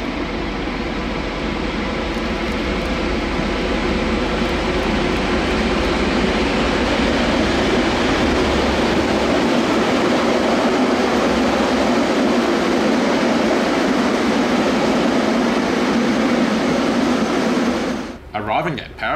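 Two DA class diesel locomotives haul a train through darkness, a loud, steady rumble of engines and rolling wheels that holds almost unbroken throughout before dropping away abruptly near the end.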